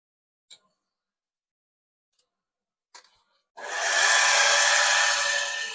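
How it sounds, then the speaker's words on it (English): Power drill with a number 41 bit boring a clearance hole through aluminum, starting after a few small clicks and running as a steady high whine for about two seconds, close and loud. "So we'll drill this out with a number 41 through this aluminum."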